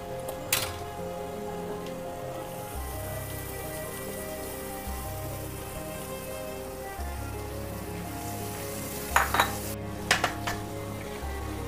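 Boiled prawns added to a pan of egg curry, with soft bubbling and sizzling throughout, a few sharp clinks of a utensil against the pan near the start and again near the end, and no talk.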